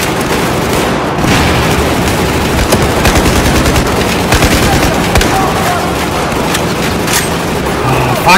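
Dense combat in Battlefield 4's Baku mission: continuous loud gunfire with rapid machine-gun bursts and heavy booming explosions, close and relentless throughout, with a voice shouting briefly over the din.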